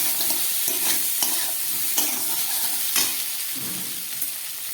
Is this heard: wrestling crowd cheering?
no